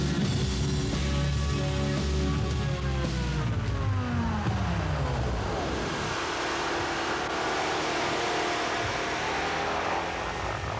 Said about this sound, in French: Il s'agit d'un engin chenillé construit sur la base de la voiture de Monsieur Tout-le-Monde.